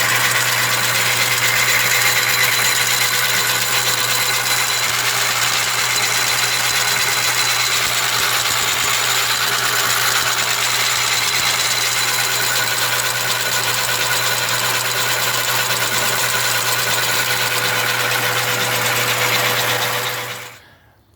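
A lathe runs steadily with a 3D printed 80 tooth gear fitted and the half nut engaged, giving a loud continuous mechanical whir and hum throughout before it cuts off at the end.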